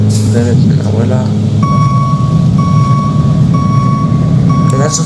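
A bus in a bus-driving video game parks with repeated evenly spaced reversing beeps over a low engine rumble, while someone talks over it in the foreground.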